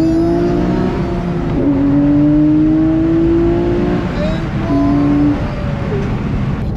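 A car accelerating hard on Los Angeles streets, its engine note rising and shifting through gears, loud and close inside the cabin, with steady road roar underneath.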